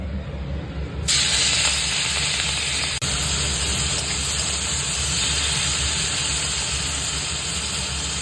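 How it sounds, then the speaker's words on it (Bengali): Fish dropped into hot oil in a home kitchen, a loud, steady hiss and sizzle that erupts suddenly after a quiet moment and continues evenly to the end. "মাছগুলো এবার ভেজে নেব"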